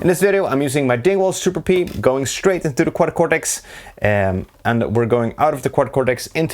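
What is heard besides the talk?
No distinct noise like a dog, phone or traffic.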